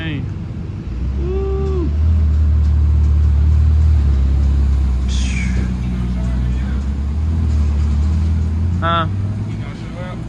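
Car engine revving loudly at a late-night car meet, a deep sustained rumble with rising and falling revs throughout, while people talk and call out excitedly over it.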